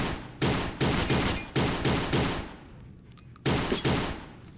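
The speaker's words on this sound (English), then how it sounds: "so we're gonna come up here to shoot these bottles." Gunfire aimed at bottles in the video game Fallout: New Vegas, about seven loud, booming shots in an uneven rhythm with a brief pause midway, no talk.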